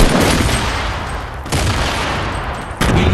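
Dense, continuous bursts of rapid gunfire from the Fortnite battle royale video game, loud and sustained with a few sharper booming shots, no talking over it.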